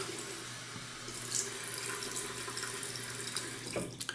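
Running tap water trickles steadily into a vegetable-based shaving soap with stearic acid, coconut oil and shea butter, a continuous close splashing hiss with no voices.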